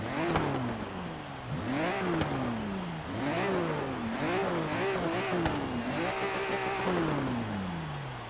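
BMW M3 E46 with a Rocket Bunny body kit, its engine revving repeatedly in rising and falling sweeps, loud and close with a steady rhythm of throttle blips and no talk.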